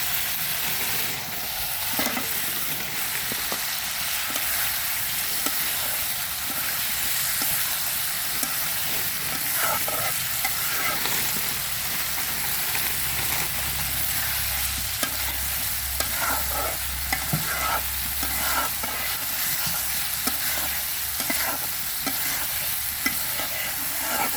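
Eggs fry in a spiced masala cooked down until the oil separates, giving a steady close sizzle with repeated scraping stirs of a spoon against the pan, no talking.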